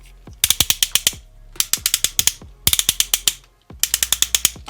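Transformers combiner toy figure's leg joints ratcheting in and out, four close bursts of sharp plastic clicks, each a quick run of six to eight clicks separated by short pauses.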